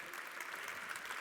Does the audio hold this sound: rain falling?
no